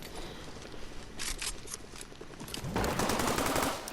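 Rapid bursts of Brutus minigun fire in a video game, with a steady rattling stream that turns into a louder, denser barrage near the end.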